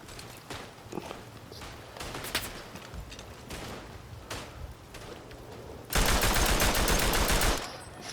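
Rapid automatic fire from a Belgian squad weapon in the WW1 game Verdun, a dense, loud burst of fast shots near the end, with sparser distant gunfire and footsteps earlier.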